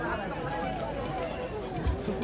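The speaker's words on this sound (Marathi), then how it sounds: "गर्दी बघा इकडं" A dense crowd murmurs at the Krushik 2026 agricultural exhibition in Baramati, a steady babble of many voices filling the space throughout the short stretch.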